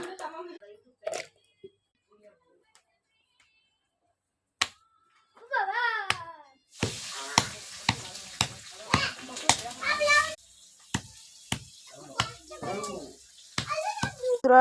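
Jujubes (boroi) are crushed by hand for a spiced snack, a series of sharp, evenly spaced pounding hits mixed with children's voices and chatter nearby.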